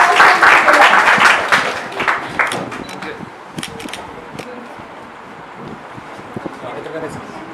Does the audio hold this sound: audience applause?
yes